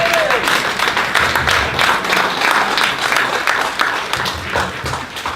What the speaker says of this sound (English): If you are a veteran, please applaud.